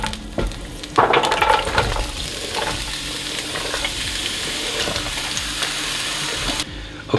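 Chopped onion hits a hot pan on the stovetop with a loud, close sizzle that settles into a continuous frying crackle and hiss with occasional stirring scrapes, then drops away near the end.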